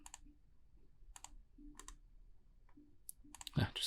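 A handful of sharp computer mouse clicks come at a steady, unhurried pace, close and fairly faint, with a quiet pause between each one and no talking.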